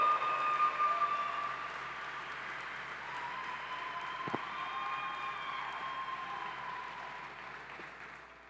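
An audience applauds a white Lucid Air Dream Edition electric car as it drives past during a keynote presentation, steady clapping that starts loud and settles into a moderate, sustained wash.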